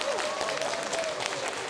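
Lecture audience in a hall in Gwangju applauds an opera singer's talk, a dense steady patter of many hands clapping for about two seconds, with a voice faintly audible beneath.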